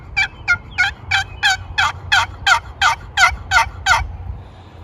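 A hand-operated turkey call plays a high-pitched southern-style yelp sequence, about twelve evenly spaced sharp notes in a steady rhythm, loud and close, with no voices over it.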